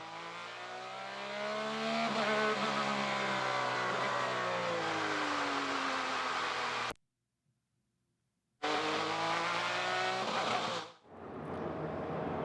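IndyCar race car accelerating through qualifying at the Detroit Grand Prix, a loud, close engine wail rising and falling in pitch, cut by a brief silent gap, then revving hard again before easing off.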